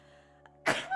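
A single sharp, loud human sneeze bursts out near the end after a quiet indoor moment, with no talk around it.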